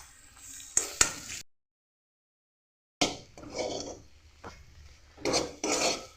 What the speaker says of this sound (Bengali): এটা জলটা শুকিয়ে যাওয়া পর্যন্ত এটাকে নাড়তে হবে।